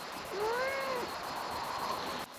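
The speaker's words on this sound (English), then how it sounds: "That's the cat. Don't bother the cat." A house cat gives a single rising-and-falling meow, fairly close and clear, in an otherwise quiet indoor room.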